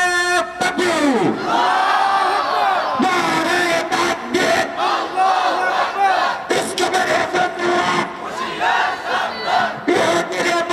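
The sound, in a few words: crowd chanting the Nara-e-Takbir slogan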